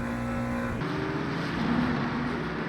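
GT3 race cars, including a McLaren, running on track in the racing game Le Mans Ultimate: a loud continuous engine drone with shifting pitch as the car accelerates, close and without talk.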